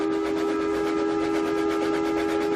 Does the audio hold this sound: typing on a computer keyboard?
no